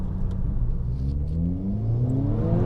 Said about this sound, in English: And full boost. Yeah, there's wheel spin. Doesn't feel like it has an LSD. Tons of rushing air and intake noise.